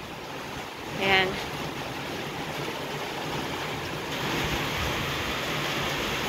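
Strong wind from Typhoon Paolo roars steadily at Luna, La Union, a broad rushing noise that swells toward the end, with a brief spoken word early on.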